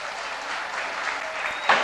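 Crowd applause at the 1998 Senior Oceania Weightlifting Championships in Nauru after a weightlifter's successful lift, a steady dense wash of clapping with a brief louder burst near the end.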